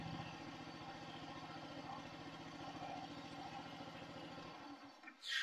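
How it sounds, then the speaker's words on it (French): A motorcycle engine runs at a steady, rapid idle close by, its even low throb continuing for several seconds before it cuts out near the end, followed by a brief rustle. "Et là, la moto démarre."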